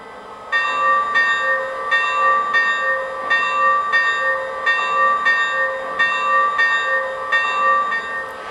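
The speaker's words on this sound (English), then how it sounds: "that was the continuous ringing bell" A bright bell on a Lionel Milwaukee Road S3 4-8-4 Northern #261 model locomotive rings steadily over and over, evenly spaced strikes about every half second, loud and clear with no talking.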